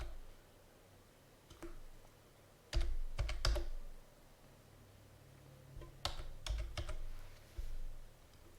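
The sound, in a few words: typing a password on a computer keyboard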